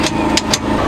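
A tractor engine runs on a farm, a loud, close, steady rumble with a few brief hissing bursts over it.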